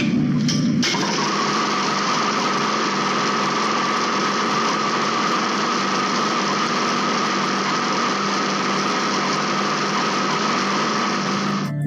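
A prototype gear-based rotary engine catches in the first second, then runs with a loud, steady, high-pitched buzzing drone that carries on unbroken for the rest of the twelve seconds.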